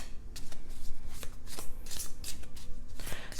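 Tea leaf cards are shuffled by hand in a quick run of crisp, riffling flutters and soft slaps, close and fairly loud, with no talking.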